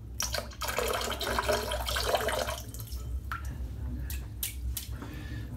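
Water drips and trickles from a soaked 24mm Manchurian White shaving brush, a close, wet spattering that thins into a few separate drops.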